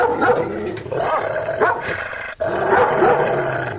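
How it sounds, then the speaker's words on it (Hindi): A pet dog barks and growls repeatedly at close range at passing people, in several sharp bursts with short gaps between them. "टॉमी उन पर भौंकने लगता है।"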